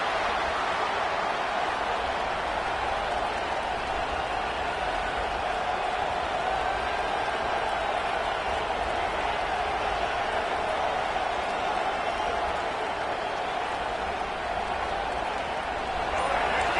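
A stadium crowd in a football video game swells into a continuous, broad roar of cheering, with commentary voices heard beneath it.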